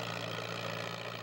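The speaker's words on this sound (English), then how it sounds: "Chances are you can hear the drone of an old tractor straining against the weight of a heavy sled" Antique tractor engine at a tractor pull in Axton, Virginia, straining against a heavy sled: a steady, loud, low mechanical drone that holds constant throughout, with no voices heard.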